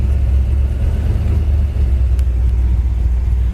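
A 1965 Chevy Chevelle convertible with a Powerglide transmission drives along, its engine giving a steady, loud low rumble throughout with no talking.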